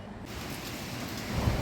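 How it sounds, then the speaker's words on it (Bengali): Cyclone Remal at night: a brief, moderately faint wash of storm noise, with broadband wind and rain roaring steadily and a low thunder-like swell near the end, no voices. "এই যে ঝড়ের আওয়াজ নিশ্চয়ই শুনতে পাচ্ছেন সবাই"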